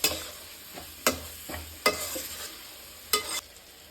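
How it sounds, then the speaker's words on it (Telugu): A spoon scrapes and stirs through a thick tomato masala in a sizzling pan, four or five distinct stirring strokes over a soft steady fry. "ఒకసారి తిప్పుకుందాం. టమాటా అంతా మగ్గాలి, పచ్చి వాసన అంతా పోవాలి"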